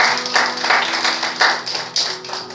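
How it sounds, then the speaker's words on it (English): A church congregation claps hands together at an evening service, a dense burst of overlapping claps with uneven rhythm, lively and close, lasting a few seconds. "Let's give the Lord a hand clap tonight"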